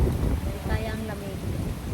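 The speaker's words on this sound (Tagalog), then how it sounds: "Sobrang hangin na guys. Mahangin na siya." Strong gusty wind buffets the microphone on Mt. Tapyas, a steady low roar of blustering air filling the whole stretch with faint voices underneath.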